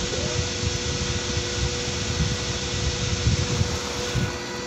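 A 4-wire cooling fan runs steadily in a temperature-controlled automatic fan setup, giving a continuous airy whoosh with a low hum and faint tonal whine, close and unchanging throughout.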